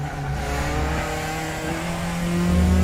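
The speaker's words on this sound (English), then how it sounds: "Late downshift again." A Praga R1 race car in RaceRoom at Donington National snarls with a steady high engine note that drops and rises through a downshift, loud and close, with no talk.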